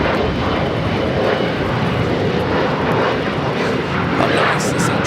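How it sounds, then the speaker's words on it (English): An Air China Boeing 777-300ER takes off from Los Angeles airport, a loud, continuous jet engine roar close by. The rumble holds steady across the whole stretch, and a voice speaks over it. "This is Air China 988 taking off to Beijing on the 777 300ER"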